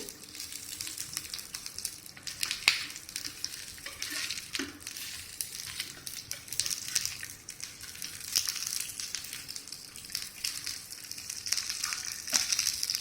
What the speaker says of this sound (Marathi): आणि लो फ्लेमवर आपण वड्या भाजून घेणार आहोत।